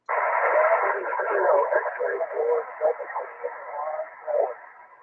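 A weak FM amateur radio transmission on 146.415 MHz carries a narrow, band-limited voice through steady static, continuous for several seconds with the speech sounding thin and distant.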